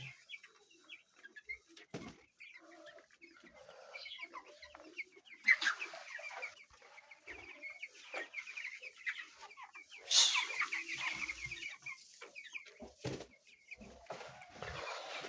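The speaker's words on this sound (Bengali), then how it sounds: "এই দেখেন আমার ব্রয়লার মুরগি।" Sick broiler chickens at a home farm, some coughing, clucking softly and intermittently up close, with occasional louder squawks and rustling against a quiet background.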